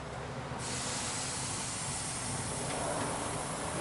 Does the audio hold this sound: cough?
no